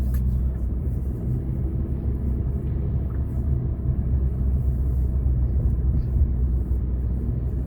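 Morning road traffic rumbles as a low, steady drone of car engines and tyres, continuous and moderately distant, with no voices over it.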